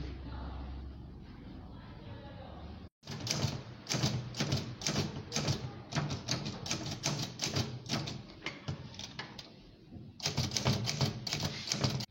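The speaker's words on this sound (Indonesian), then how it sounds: "Tolong kau ketik teks proklamasi ini." Keys clatter on a typewriter in a school drama scene about typing the proclamation text, rapid close strikes in bursts with brief pauses after a few seconds of quiet room murmur.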